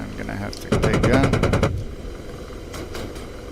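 A burst of rapid machine gun fire from a helicopter in the flight simulator DCS, loud and close for about a second, with a voice speaking before and after.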